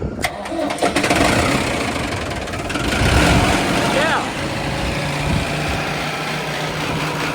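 A tractor engine with a previously dead battery cranks and catches after a jump start, then runs at a steady mid-pitched idle, close and loud, with a man's brief speech over it.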